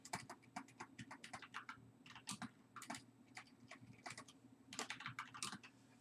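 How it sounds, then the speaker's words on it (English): Steady typing on a computer keyboard, a quick run of clustered key clicks with short pauses between bursts, close and clear with no voices. "I'm gonna go ahead and type it in."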